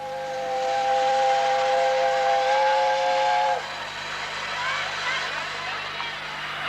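The whistle of the Green Knight steam locomotive at the Shildon 150th anniversary sounds a long, steady two-tone blast for about three seconds, then cuts off, leaving a loud hiss of steam.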